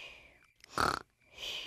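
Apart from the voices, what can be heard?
cartoon pig snoring while asleep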